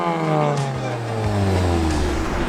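A tuned Volkswagen Golf GTI with a DSG gearbox revs through its exhaust, a close, loud rising and falling engine note with a quick blip near the end.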